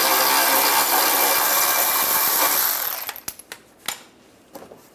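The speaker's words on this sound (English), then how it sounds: "And then I'm going to take these two front bolts out." Power tool loosening the front bumper bolts on a 1996-2002 Toyota 4Runner, a loud continuous buzzing whir for about three seconds, then a string of short sharp clicks and rattles as it stops.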